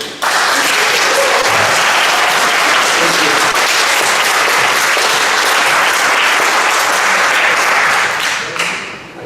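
Sustained audience applause fills a borough planning commission meeting, dense and loud clapping from many hands continuing steadily for about nine seconds before tapering off at the end.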